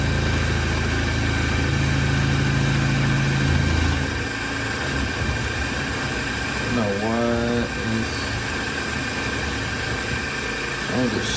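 A CNC end mill takes a heavy full-width pass almost a quarter inch deep while cutting a brake caliper rotor adapter. The machine drones loudly and steadily with a constant tonal whine throughout.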